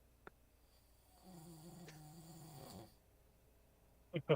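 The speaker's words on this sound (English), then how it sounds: "Oh, he's snoring." A single soft, drawn-out snore rumbles for about two seconds in a quiet room, with a few faint knocks before and after.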